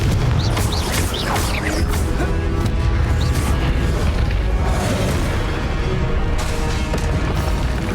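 In the Hogwarts Legacy video game, a Confringo blasting spell erupts in a dense, loud explosive roar with deep rumbling booms and crackling bursts, continuous and overwhelming for the whole stretch.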